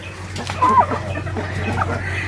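A hen gives a short cluck or two near the start, then quiet farmyard hum continues with a low steady drone.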